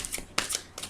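Oracle cards being shuffled during a card reading, giving several quick papery riffling bursts in close succession, close and fairly quiet, with no talking.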